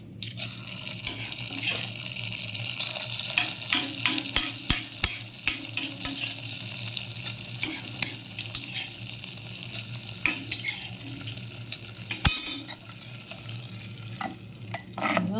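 Hot coconut oil tempered with mustard seeds, dried chilli, cumin, curry leaves and fenugreek is poured into a thick buttermilk moru curry, raising a close, crackling sizzle punctuated by spoon clinks and scrapes.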